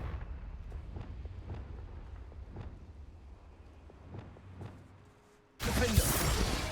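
A Confringo blasting spell in a wizard video game: after a quiet stretch of soft rhythmic ticks, a sudden loud, broad blast erupts and roars on until the end.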